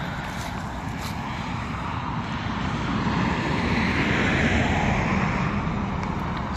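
Blower motors inflate a 20-foot inflatable Santa outdoors, giving a steady, loud droning rush of air with a slight swell partway through and no talking.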